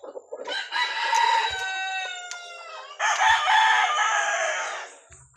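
Fighting roosters at a backyard breeder crow loudly and close in two long, drawn-out calls, one after the other, with faint clucks and scuffs between them.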